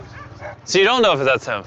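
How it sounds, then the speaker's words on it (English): A dog whimpers and yips in short bursts, tangled with close, loud talking voices that largely cover it. "This is the dog that climbed the pyramids."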